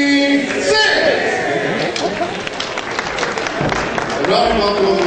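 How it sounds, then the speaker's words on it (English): Dense applause from a large crowd at a University of Nigeria 56th anniversary ceremony, loud and sustained throughout, with voices and chatter mixed in over the clapping. "Round of applause for that."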